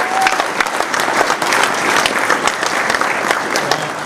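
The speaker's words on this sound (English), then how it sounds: "please help me give them a round of applause" Audience applause for the Parks Commissioners at a town hall meeting, steady dense clapping from a large crowd filling the room without a break.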